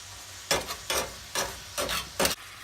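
Sausage sizzles in a pan on a low flame while a utensil stirs it in five distinct scraping bursts, each a second or less long, close and fairly loud with quiet sizzling between.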